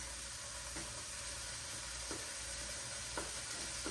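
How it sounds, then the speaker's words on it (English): Around four teaspoons of minced garlic sizzle in a pan seasoned with chicken drippings, a low continuous frying hiss with a few scattered stir scrapes, fairly quiet and without talk. "And then we will add our minced garlic, about 4 teaspoons."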